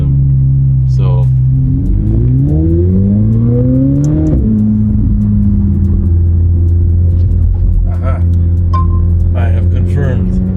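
A purple widebody McLaren's engine revs hard, its pitch climbing in a long sweep then dropping, with a deep rumble throughout and a voice talking briefly over it.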